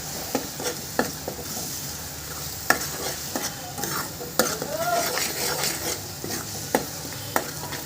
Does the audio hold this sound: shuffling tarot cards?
no